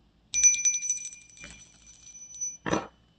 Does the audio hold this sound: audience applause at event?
no